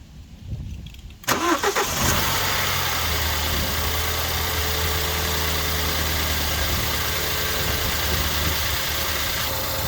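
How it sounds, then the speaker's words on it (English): A BMW E92 engine cranks and catches after a brief quiet moment, then settles into a steady, even idle that carries on loudly and close for the rest of the stretch, with no talking. "So let's get the car started."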